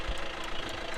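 A vehicle engine labours along a rough off-road track near Thekkady, giving a steady, close rumble with a knocking edge and no talking.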